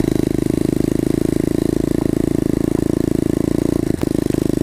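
A new dirt bike engine being broken in runs close by at a steady, rapid put-put rhythm, holding a constant quarter throttle with a brief clatter near the end.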